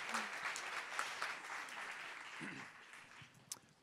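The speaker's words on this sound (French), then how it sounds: "Je vous laisse les applaudir" Audience applause after a talk on artificial senses, a moderate crowd clapping fairly quietly at a distance, fading gradually toward the end with a faint voice briefly audible near the close.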